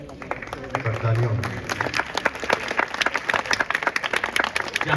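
An audience claps at a live Holi stage performance, a dense burst of steady, fairly loud applause that builds after a brief low voice near the start.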